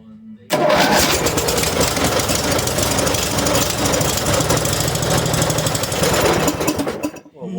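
A Simplicity 3112H lawn tractor engine catches after choking and roars to life, a loud rough knocking run that holds steady for several seconds before cutting off.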